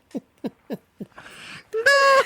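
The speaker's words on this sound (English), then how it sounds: "I was like, okay, that pigeon." A pigeon coos in a few soft, low, evenly spaced calls, followed by a rougher, louder burst of noise and a high, sustained tone that rises at the end.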